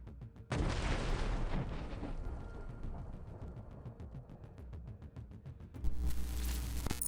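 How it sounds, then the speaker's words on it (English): A powerful blast of anti-tank mines inside a building used as a temporary staging area, heard as a sudden loud boom that rolls on into a long rumbling roar, with a second surge of noise near the end. "A powerful explosion destroyed the temporary staging area."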